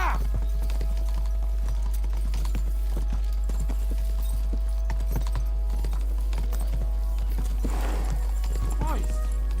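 Horses gallop in Kingdom Come Deliverance 2, a steady clip-clop of hooves with an occasional whinny, running under loud speech and a constant low hum.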